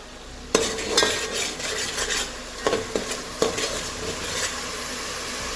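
Whole spices (cardamom, star anise, bay leaf, cloves and black pepper) drop into hot oil in a pan, with sharp clattering hits and spoon scrapes over a steady close sizzle.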